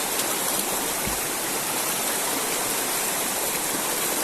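Water rushes continuously in a steady, full roar, like a nearby stream running over rocks, with no voices.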